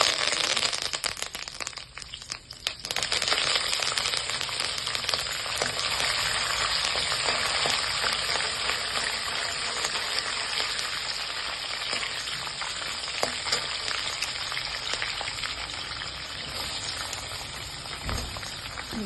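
Curry leaves and green chilies sputter in hot oil with cumin seeds for lemon rice, a loud, dense crackling sizzle like heavy rain that runs steadily throughout, with one brief dip early on.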